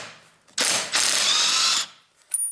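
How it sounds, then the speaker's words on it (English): Makita battery-powered impact driver loosening bolts while replacing a Toyota Prius front ABS sensor, a short, loud burst of rapid hammering lasting about a second, starting, pausing briefly, then continuing before cutting off. "now we use this my impact driver, what I can recommend, Makita battery base"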